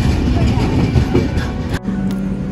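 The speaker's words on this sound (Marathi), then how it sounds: "चला ट्रेन आली." A train pulls into a station as a loud, rumbling low roar with rattling and a high steady whine that cuts off abruptly, heard up close amid background voices.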